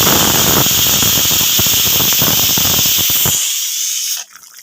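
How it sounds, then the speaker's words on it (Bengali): A pressure cooker vents on the stove, a loud sustained high hiss with spitting crackle that cuts away sharply near the end, leaving a faint fizz. "এটা এই প্রেসার কুকারে হচ্ছে"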